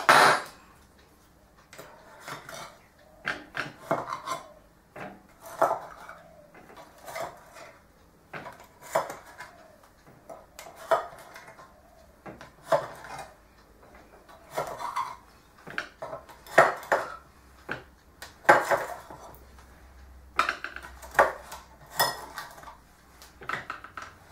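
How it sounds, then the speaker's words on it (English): Metal butter knife scraping and clinking around the edges of a mini quiche pan with cheese, bacon and corn filling, a series of close, sharp taps and scrapes in irregular bursts, with short quiet gaps between them. "Get a butter knife and run it around the edges of any of those that you think may have stuck"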